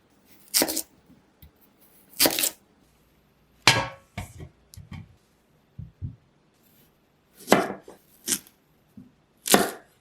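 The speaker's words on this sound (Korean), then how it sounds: "무는 비트와 비슷한 크기로 자르세요." A knife chops radish on a cutting board in a home kitchen, sharp separate thunks landing in irregular pairs and singles with quiet pauses between, close and clear with no talking.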